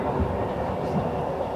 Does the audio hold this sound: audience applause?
no